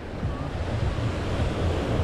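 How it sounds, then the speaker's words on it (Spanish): Ocean waves wash onto the beach at Playa del Carmen, a continuous roaring surf with gusts of wind buffeting the microphone, loud and close with no talking. "viendo cómo las olas se mueven"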